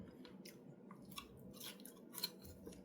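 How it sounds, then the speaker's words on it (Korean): Crispy oven-baked pork belly is chewed close to the mic, giving faint repeated crunches and soft bites in a steady rhythm over low room hum. "오븐에 놔둔 삼겹살 아주 바삭합니다."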